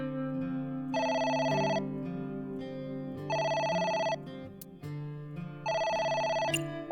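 A telephone bell ringing in the video game AI: The Somnium Files, three loud, even bursts of bright trilling ring about a second long each, separated by pauses, over soft background game music.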